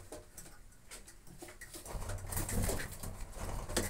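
Pigeons coo softly and repeatedly in a loft, near and fairly loud, with occasional rustling and light patter of movement in the background.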